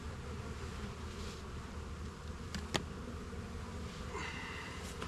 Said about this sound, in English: bees that were on the old bottom board kind of into the hive, and they won't like that for a bit